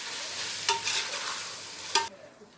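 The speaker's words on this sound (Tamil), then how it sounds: "தக்காளியை சேர்த்துட்டு தக்காளி நல்லா மசிஞ்சு வர வரைக்கும் நம்ம இதை வதக்கணும்" Onions and tomatoes sautéing in a pan for chicken biryani give off a steady close sizzle. Two sharp scraping stirs cut through it before the frying noise drops away near the end.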